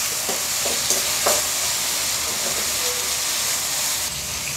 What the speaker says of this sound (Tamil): இப்போ தக்காளி வதங்கட்டும்.